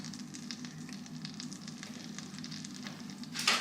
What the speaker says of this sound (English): And I'm adding salted butter.